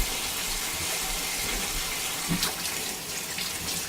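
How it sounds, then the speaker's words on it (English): Tap water runs steadily into a kitchen sink while raw beef tripe is rinsed for menudo, a constant close splashing gush with small shifts as the tripe is moved under the stream. "before we start cutting up the tripe, you want to wash the tripe. That's what we're doing now."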